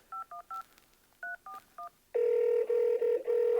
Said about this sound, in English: Let's try and get him on the phone.